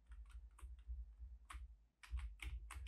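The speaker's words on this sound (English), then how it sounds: "And if we press the arrow keys," Computer keyboard arrow keys tapped in quick bursts of close, crisp clicks with a brief pause partway, over a low steady hum and no talking.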